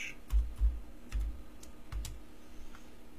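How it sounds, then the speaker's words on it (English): Computer keyboard keys tapped in a short, uneven run of distinct clicks, fairly close and alone without talk, as a search term is typed in. "what they can do here is type in"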